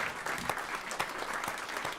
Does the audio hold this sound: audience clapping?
yes